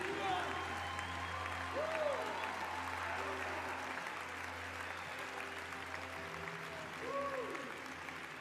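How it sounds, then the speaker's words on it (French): Sustained applause from a large conference audience, steady dense clapping throughout with scattered whistles or cheers rising above it, loud and continuous without a break. "Keep clapping if you see someone coming down."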